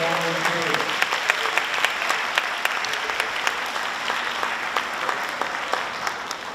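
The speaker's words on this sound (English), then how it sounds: "Let's give our middle school and high school orchestra another big round of applause." Crowd applause for a middle and high school orchestra at a PTA holiday concert: thick, continuous clapping from a large audience, with a brief voice fading out at the very start and sharp individual claps standing out.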